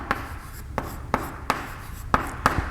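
Chalk or marker writes on a board during a math lesson, giving six sharp tapping and scratching strokes at irregular intervals over a quiet room, with no talking.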